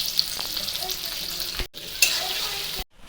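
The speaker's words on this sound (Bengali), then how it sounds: "এখন নারকেল কুচিগুলো দিয়ে দেবো।" Grated coconut drops into a pan of frying chana dal, giving a loud, steady sizzle with stirring scrapes that cuts off briefly twice.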